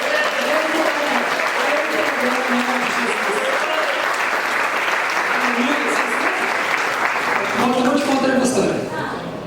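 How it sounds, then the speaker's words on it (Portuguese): A church congregation breaks into sustained, fairly close clapping that runs steadily for several seconds, with a voice speaking over it intermittently and the applause tapering near the end. "Pode dar uma salva de palmas para esse Jesus"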